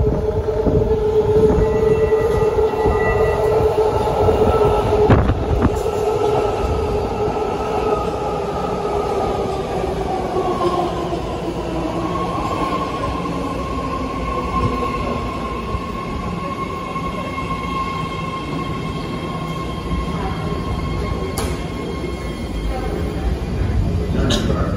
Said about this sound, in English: This is a blue line train to Daly City